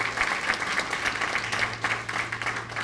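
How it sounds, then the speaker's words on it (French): A crowd at a law faculty graduation ceremony claps steadily and energetically for professors, dense applause filling the whole stretch over a low hum. "Je vous demande d'applaudir vos professeurs et vos responsables"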